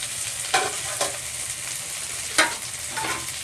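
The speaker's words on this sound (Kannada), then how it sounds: "ಈರುಳ್ಳಿ ಮೆಣಸಿನ್ಕಾಯಿ ಶುಂಠಿ ಬೆಳ್ಳುಳ್ಳಿ ಪೇಸ್ಟು ಈ ಥರ ಫ್ರೈ ಮಾಡ್ಕೊತಾ ಇದ್ದೀವಲ್ವ" Chopped onion, green chili and ginger-garlic paste fry in a pan with a steady, close sizzle, broken by a few sharp spoon clinks against the metal.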